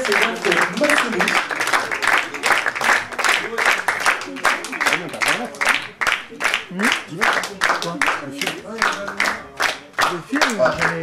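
Audience applause at a Paris slam poetry night, a dense, steady patter of many hands clapping together for about eleven seconds, close and fairly loud with a slight voice mixed in.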